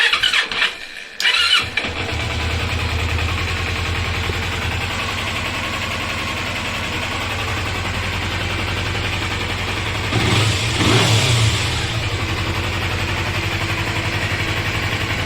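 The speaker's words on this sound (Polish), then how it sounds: "Ale motocykl bardzo ładnie pracuje." A Kawasaki Eliminator 250 motorcycle engine starts after brief cranking, then settles into a steady, close idle with a short rise in revs partway through.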